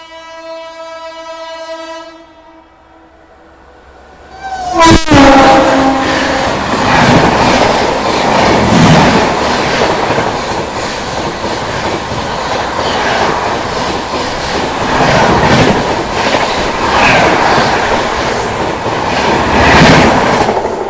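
A train passes at speed alongside a halted Amrit Bharat Express. A long horn blast sounds first, then a loud, close, continuous rumble of wheels with rhythmic clickety-clack runs to the end.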